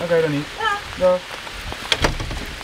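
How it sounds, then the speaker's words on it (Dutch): Heavy rain pours down outdoors in Middelburg, a steady broadband hiss beneath a short exchange of voices speaking Dutch. "want het regent echt heel hard"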